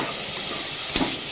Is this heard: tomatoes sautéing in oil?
yes